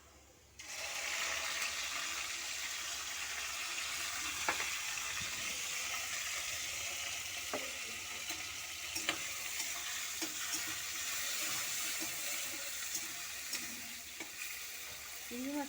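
Shrimp dropped into hot oil in a home kitchen, starting a loud, continuous sizzle that holds steady, broken by occasional clicks and utensil taps.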